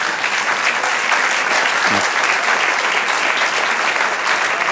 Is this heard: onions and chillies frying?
no